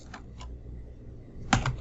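Typing on a computer keyboard while entering a web address in a browser: a few sparse soft key clicks, then a quick cluster of sharper keystrokes near the end, fairly close with a quiet room behind.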